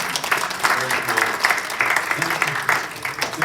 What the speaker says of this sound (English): can we give Mark a round of applause again?